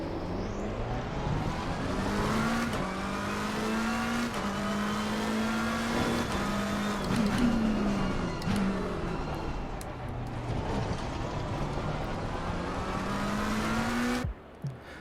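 A racing car in the sim game Assetto Corsa Competizione laps a track on a cool day, its engine droning steadily with rising and falling revs through gear changes and occasional tyre noise, continuous and fairly loud until a sudden cut near the end.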